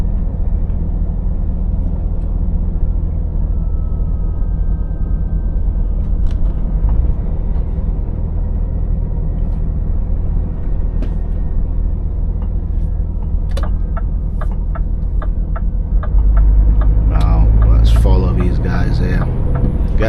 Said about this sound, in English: Now we're currently in Tewkesbury and you can see the traffic here.